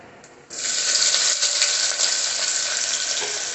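Mustard seeds and onions dropped into hot oil, bursting into a loud, continuous sizzle after a brief quiet moment, close by and steady to the end.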